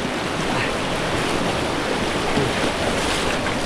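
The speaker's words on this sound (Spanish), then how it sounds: "Es un río muy escandaloso de agua y piedras grandes." A loud river rushes over large stones, a dense continuous roar of water close by with some wind buffeting.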